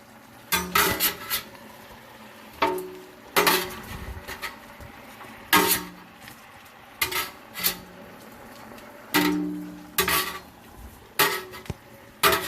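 A gigantic spoon stirs oxtails in a big pot, knocking and scraping against the metal in about a dozen loud, close clanks spaced roughly a second apart, with quieter clatter between them.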